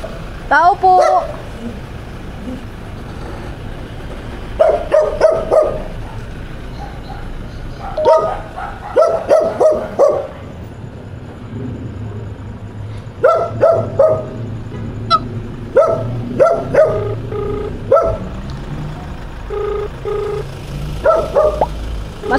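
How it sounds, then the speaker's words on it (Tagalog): Several dogs bark in repeated bursts around a residential street in the Philippines during a delivery stop, some barks close and loud, others farther off, with a person calling out intermittently between them. "Maraming aso."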